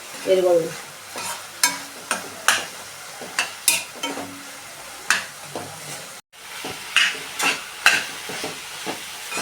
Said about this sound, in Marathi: आता हा चून आहे ना हा चांगला शिजवून घ्यायचा मस्त घट्ट तवळीत आणि हे गुळ आहे ना हा सगळा जाईल त्याच्यामध्ये